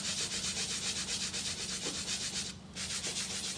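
Flock powder rubbed by finger or applicator in broad circles over a pink flower, a steady close soft scratchy rubbing that continues almost without pause, with no voices.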